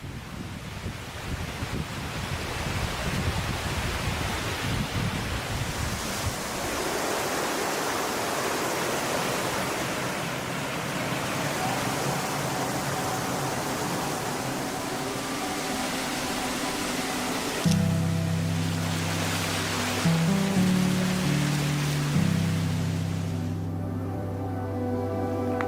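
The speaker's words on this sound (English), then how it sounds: "the stream cascades around a torii gate" Spring water stream in Japan cascading around a torii gate, a steady broadband rush of flowing water that fades toward the end, where a low tonal hum rises beneath it.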